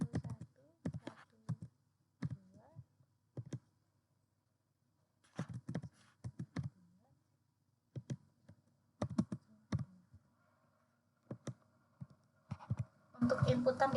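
Clicky computer keyboard typed on for data entry, with short clustered bursts of keystrokes separated by pauses, close and clear, ending in a denser flurry of key presses.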